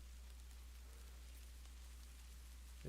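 Soft steady rain pattering on a surface, a continuous faint hiss filling the background with no other sounds over it.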